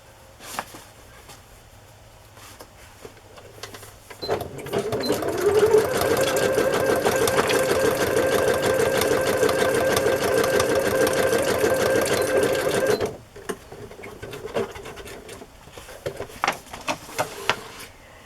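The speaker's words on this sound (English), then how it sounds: "I'm just going to sew this to the top of the page" Sewing machine stitching a fabric tag onto a paper journal page: a loud, steady, fast mechanical whirr that runs unbroken for about nine seconds, with quieter handling clicks before and after.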